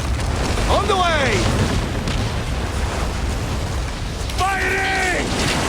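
Heavy cannon fire in the video game Assassin's Creed Origins, a run of loud booms and bursts rolling across the battle while voices shout over the barrage.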